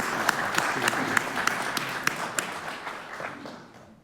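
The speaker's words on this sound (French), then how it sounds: "Je voudrais qu'on l'applaudisse très fort." An audience applauds at a diaspora initiative event, a moderate round of clapping with a few sharp claps standing out, gradually fading near the end.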